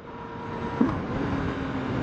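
Yamaha MT09 motorcycle engine on a test ride, a steady droning hum with wind rush and a brief louder blip, heard from the rider's position.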